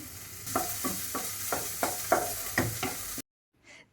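Vegetable curry stirred in a sizzling pan after coriander goes in, a spoon scraping in a steady rhythm of about eight strokes over a hot frying hiss, close and clear, then cutting to near silence.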